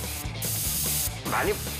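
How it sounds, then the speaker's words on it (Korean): A spray gun sprays dye evenly onto a worn leather sofa being redyed in a workshop. Two loud hissing bursts are broken by brief pauses and trigger clicks, with faint mechanical clatter underneath. "2차 염색은 스프레이 건을 사용해 고르게 분사하는데요"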